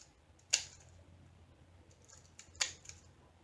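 Two sharp scissor snips cutting out a diamond painting legend sheet, spaced about two seconds apart, close and distinct over a quiet room.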